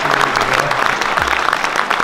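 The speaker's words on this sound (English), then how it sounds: "We get a round of applause for all the sponsors." An audience at a truck show award ceremony applauds the sponsors with a brief, dense burst of clapping, close and loud, with a low engine hum in the background.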